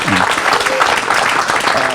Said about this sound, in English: I think we owe them a resounding round of applause